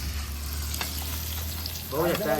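Steady, loud sizzling of fish frying in hot oil on a tawa close by, with a low hum underneath and a brief burst of voices near the end.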